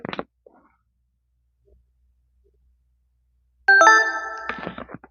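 Boat Nirvana Bluetooth headphone, repaired after a capacitor fault, plays its power-on chime held right against the mic: a clear multi-tone electronic jingle sounding once near the end, after a short click and near silence.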